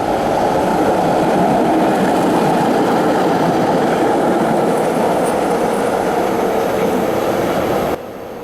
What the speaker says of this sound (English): we then saw an RTA car as it ran right by us